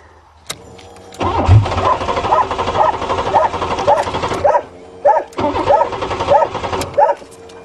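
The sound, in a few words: crushed Buick engine cranking, trying to start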